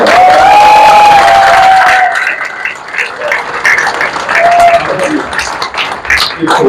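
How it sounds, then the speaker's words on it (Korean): An assembly of lawmakers gives a large audience at a National Assembly debate forum a loud, sustained round of applause mixed with cheering and a crowd murmur, with voices calling out over the clapping. "우리 국회의원들이 여러분께 큰 박수 보내겠습니다."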